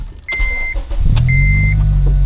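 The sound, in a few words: Honda Civic Si engine starting up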